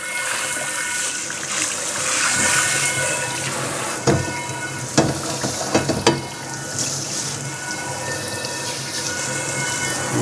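Water runs and splashes in a cast iron pan while it is rinsed, a steady close hiss with a few sharp clanks and scrapes midway.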